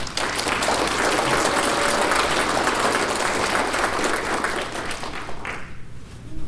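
Enthusiastic applause from the audience at a GED graduation ceremony, sustained dense clapping that stays loud for about five seconds before thinning and fading toward the end.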